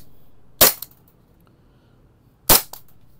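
An Umarex VFC Glock 17 Gen 5 French Edition airsoft pistol fires two sharp, loud shots about two seconds apart, each with a quick mechanical snap of the slide, in an otherwise quiet room.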